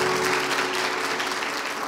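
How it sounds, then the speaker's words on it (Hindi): Dense applause from an audience for a principal and guests at a Holy Family Hospital nursing college event in Rawalpindi, loud steady clapping throughout. "अपनी प्रिंसिपल एंड अपनी प्यारी सी जो और गेस्ट मौजूद हैं उनके लिए खूब सारी तालियाँ"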